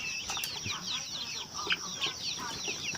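Seven-week-old Roman Brown laying hens cluck in a pen, with a steady chorus of short, overlapping clucks and chirps at close range and occasional wing flaps.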